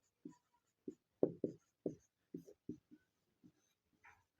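Marker or chalk writing on a board while working a class 10 arithmetic progression maths exercise: a sequence of short, distinct scratchy strokes in an uneven rhythm, close and clear against a quiet room.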